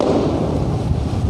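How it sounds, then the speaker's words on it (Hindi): Firecrackers crackle and thud through a Diwali night street celebration in Gangapur City, a dense, continuous wash of pops and low booms with no pause over the whole stretch. "देखिए पटाखे तो चल रहे हैं"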